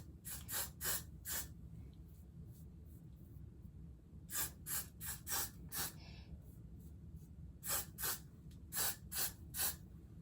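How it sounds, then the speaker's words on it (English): Several short hissing sprays from an aerosol can of freeze spray, coming in quick groups of three or four bursts with pauses between, close and crisp. "I'm gonna put some freeze spray."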